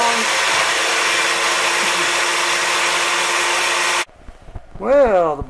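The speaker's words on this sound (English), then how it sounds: "Well, the blender worked pretty well. Got it all ground up." A kitchen blender grinding gold ore paydirt roars loudly and steadily for about four seconds, then stops abruptly, followed by someone speaking.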